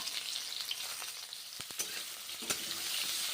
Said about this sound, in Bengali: কাঁচা কলাগুলো ওই তেলের মধ্যে দিলাম এখন